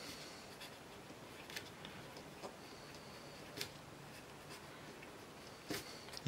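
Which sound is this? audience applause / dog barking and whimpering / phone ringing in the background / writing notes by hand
writing notes by hand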